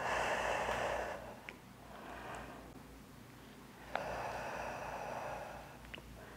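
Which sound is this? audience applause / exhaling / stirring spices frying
exhaling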